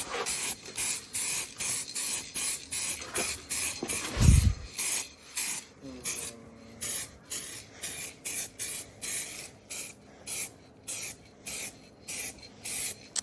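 A spray paint can sprays over bondo-filled rust bodywork, giving repeated short hissing bursts in a steady on-off rhythm at close range, with a thud partway through.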